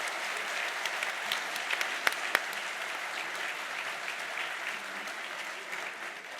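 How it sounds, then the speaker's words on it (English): A seated audience applauds a panel at a literature festival inauguration, a dense, even wash of clapping that holds steady throughout and fades slightly at the end. "can we have a loud round of applause for all three of them?"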